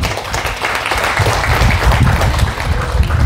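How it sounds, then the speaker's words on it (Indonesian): Loud, dense applause from a large crowd at a religious sermon, sustained and steady throughout with no pauses. "Tepuk tangan untuk Banser-Banser wakil."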